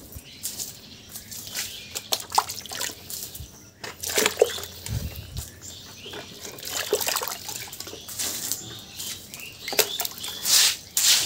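Disinfectant solution sprayed across a chicken house floor, with irregular patters, splashes and trickles of liquid landing close by, faint chirps in the background.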